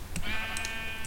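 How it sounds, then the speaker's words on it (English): A sheep in the video game Minecraft gives a short, close bleat, a single wavering nasal cry lasting under a second. "There are so many sheep here."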